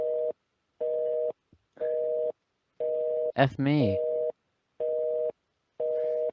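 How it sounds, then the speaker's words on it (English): Busy tone from a telephone knocked off its stand and left off the hook, a loud steady beep repeating in even on-off pulses, interrupted once by a short spoken exclamation. "I'm pretty sure that phone fell off the stand."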